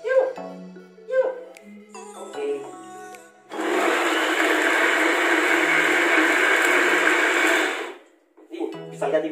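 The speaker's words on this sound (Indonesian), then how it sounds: "Jangan oleh kita blender saja." An electric blender grinds rendang ingredients for a qurban beef dish in a home kitchen, roaring steadily for about four seconds, loud and close, with people talking before and after it runs.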